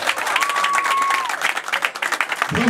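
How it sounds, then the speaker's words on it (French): A crowd applauds the national teams of Mexico and Guinea at an installation ceremony in Morocco, a loud burst of clapping that thins out toward the end, with a steady tone drifting over it. "applaudir l'équipe nationale du Mexique et du Guinée"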